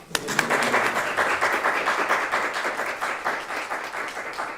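Sustained applause from an audience at a mayor's public safety announcement in St. Louis, dense steady clapping lasting throughout, fairly loud and close with no talking over it.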